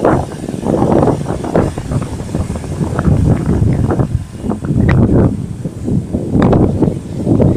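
Strong, gusty wind roars steadily on a wild beach at Sudak in December and buffets the microphone with loud rumbling bursts the whole time. Nobody speaks.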